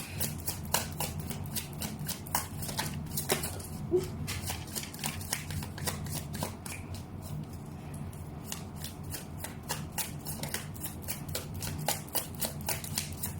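Tarot cards are shuffled continuously at close range, a rapid riffling patter of many small card slaps that keeps a steady rhythm throughout with no talking.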